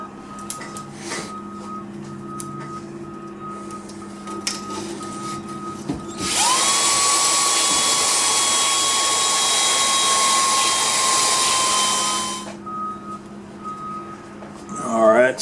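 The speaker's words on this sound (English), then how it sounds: "So you put it on your drill, let it pop open, and then start rehoning it." A drill-driven cylinder hone rehoning a cylinder of a Briggs & Stratton V-twin engine, a loud steady whine and grind running for about six seconds before cutting off, with quieter shop sounds around it.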